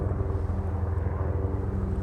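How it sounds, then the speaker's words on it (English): Big helicopters passing overhead in winter produce a steady, loud low-pitched rotor and engine drone that fills the whole stretch without a break and sits close and heavy in the sound. "Sorry, big helicopters."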